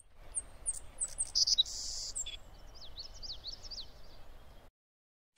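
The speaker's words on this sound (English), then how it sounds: "Sparrow." A sparrow chirps in short, bright high-pitched notes, a few quick calls followed by a rapid series of rising trills, over a faint low background hum, ending in silence.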